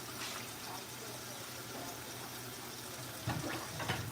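Tap water running steadily while food ingredients are washed for healthy meal prep, a continuous hiss and splash with a couple of louder sloshes near the end.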